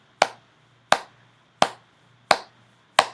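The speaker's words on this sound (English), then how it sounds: "If we think about this as I clap the beat" Five sharp single hand claps spaced evenly at a medium tempo, each crisp and close with a quick decay, separated by near silence over a faint low hum.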